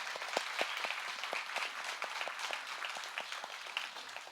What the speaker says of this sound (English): Let's give a round of applause for our door prize donors.